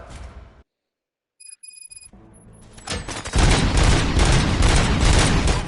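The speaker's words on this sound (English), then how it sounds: "Gunshots? What's going on?" Gunfire from the video game Robocop Rogue City erupts after a brief silence and a beeping tone, building into a loud, dense, sustained burst of shots that fills the rest of the clip.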